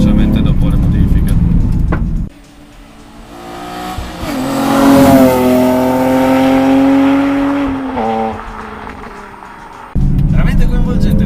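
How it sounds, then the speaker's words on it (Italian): Nissan 350Z V6 fitted with a complete Borla exhaust system revs loudly and steadily up and down for several seconds, a close, rumbling, rising and falling engine note that stands alone without talk. "Coinvolgente il sound di questo V6 che non ha lo scarico originale ma monta un impianto completo a borla"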